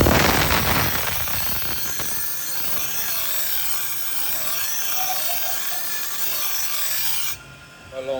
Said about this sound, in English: So I'm going to grind these teeth